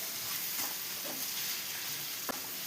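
Chicken roast masala with onions and tomatoes sizzles in a pan, a steady hissing fry broken by soft stirring scrapes and one sharp clack of a utensil against the pan near the end.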